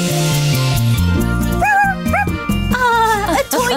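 A cartoon puppy in a Dora the Explorer episode yips and barks happily in short high bursts over bright background music, with a few whimpering squeals near the end.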